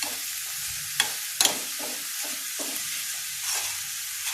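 A spoon stirs a cooking mixture of grated bread, herbs and milk in a pan while preparing mhancha, with a steady soft sizzle and a few sharp scraping clicks against the pan, no voices.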